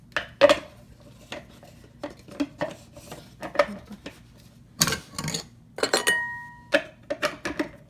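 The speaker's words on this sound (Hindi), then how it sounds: "मगर अभी फिर हम लोग इसको थोड़ा सा चॉप कर लेते हैं।" A knife chops a vegetable on a kitchen board in irregular sharp taps and short flurries, close and crisp, with occasional clinks of utensils and dishes in a quiet room.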